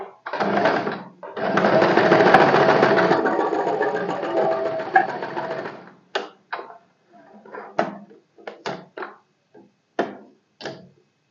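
A sewing machine stitches a fabric strip for a boat-neck A-line kurti in one long continuous run of about five seconds, then stops, leaving scattered short clicks and taps of fabric handling.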